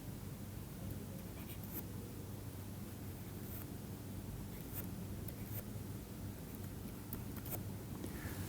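A pen scratches softly on paper as a schematic of a simply supported plate is drawn by hand, with faint, intermittent strokes over a steady hiss.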